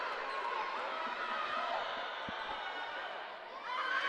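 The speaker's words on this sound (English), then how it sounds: "Listen to this crowd." Crowd roaring and cheering in a gym during a Tusculum vs. Limestone women's volleyball match, a steady loud wash of voices with a few sharp shoe squeaks, swelling again near the end.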